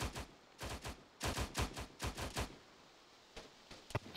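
Sustained automatic gunfire in a video game, with several close, loud bursts of rapid shots separated by short pauses and a few sharper single reports near the end.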